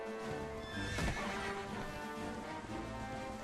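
A horse in the Dragon Quest XI S video game neighs loudly with a bright whinny while hooves clip-clop in a quick galloping rhythm, clear and up front with no talking.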